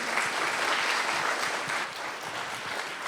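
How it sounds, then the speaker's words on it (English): An audience claps for a guest speaker at a UX and data talk, a full round of steady applause that swells early and tapers slightly toward the end. "let's get a round of applause for Jordan"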